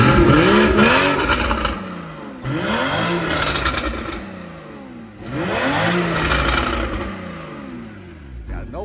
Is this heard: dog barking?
no